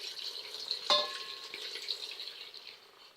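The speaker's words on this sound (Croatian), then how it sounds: "Zatim naspete vode." Water poured into a cooking pot for sarma, a soft rushing splash with a brief sharp clink near the start, fading gently toward the end with no talk.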